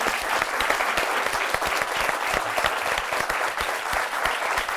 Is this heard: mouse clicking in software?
no